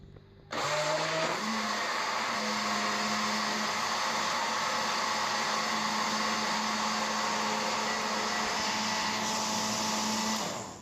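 An electric mixer blends a tile grout mix, starting with a click and a short rising whine, then running as a loud, steady motor drone for about ten seconds before shutting off, close up with no voices.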